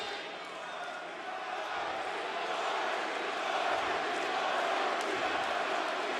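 An arena crowd at a professional wrestling event cheers for Darby Allin, a broad sustained roar that swells slightly louder, with a voice speaking over it.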